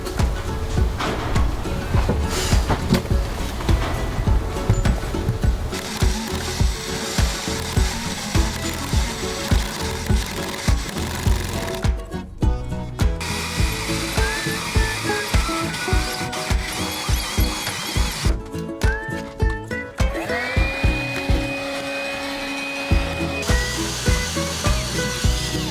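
Power tool cutting holes through wood inside a van under construction, a busy stretch of grinding and ratcheting bursts with short pauses and a steadier whine near the end, loud and close.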